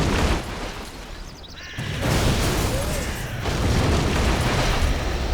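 Tanks blowing up in the real-time strategy game Command & Conquer Generals Zero Hour, heard as dense, rumbling explosion bursts and booms that swell loudly midway through and stay heavy to the end.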